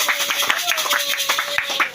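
Church congregation clapping in quick, fairly even claps, with a sustained tone beneath and voices mixed in, lasting briefly.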